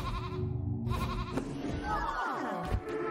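A sheep bleats a few times close up in the video game Cult of the Lamb, with game music and effects and a person's voice mixed in.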